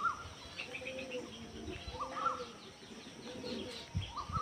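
A flock of mostly black pigeons, with a couple of white ones, coo softly and repeatedly nearby, mixed with light chirps and brief wing flutters.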